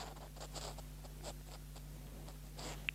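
The French word "perte" being handwritten, a quiet close pen or pencil scratching in short strokes over faint background hum.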